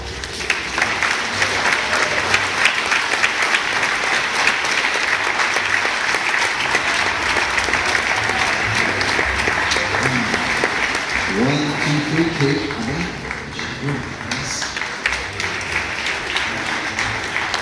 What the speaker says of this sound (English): let's give a big round of applause for those amazing reindeer and reindeer hammers